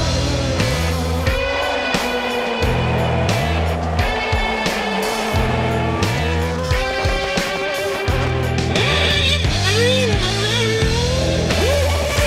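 Red Bull Formula One car on a demonstration run, high-pitched engine screaming through repeated rising gear pulls and rapid downshifts, loud and close with crowd noise underneath.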